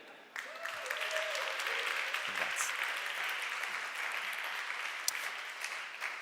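An audience at an awards ceremony for news video creators applauds in a steady, sustained wash of clapping that sounds fairly distant, with a brief voice rising over it early on.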